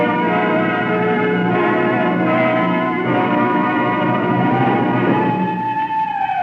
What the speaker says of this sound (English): Whenever you hear the siren and bell, think of Texaco.